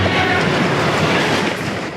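Wisconsin Central freight train rolling along its rails, a loud, steady broadband rumble with clickety-clack of wheels on track joints, close and continuous.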